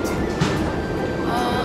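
Subway train running in a station, a steady loud rumble and rail noise filling the clip throughout.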